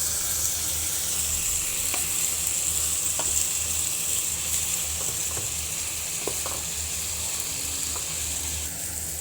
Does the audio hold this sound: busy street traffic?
no